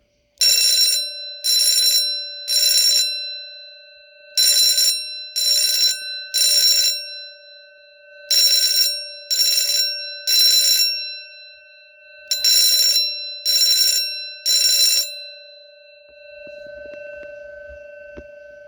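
A vintage Edwards Durabel 6-inch fire alarm bell rings loudly in short bursts grouped in threes, the pattern repeating four times with brief silences between, metallic tone lingering.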